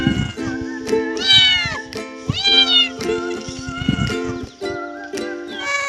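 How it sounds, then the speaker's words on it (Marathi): A hungry white cat on a rooftop meows repeatedly and insistently, with loud, close, drawn-out cries in an uneven rhythm and short pauses between calls. "म्याव म्याव करत आहे. हिला भूक लागलेली आहे"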